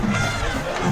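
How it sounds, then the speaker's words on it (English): The crowd at a high school football game at Northcutt Field cheers, a brief continuous roar of many voices. "It is a full crowd here at Northcutt Field, and with HA up 28-0, you can only imagine it is loud around here."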